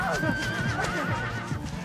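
A horse neighs loudly and close in a comedy film, a long wavering whinny that fills the short moment, with faint hoof clatter beneath.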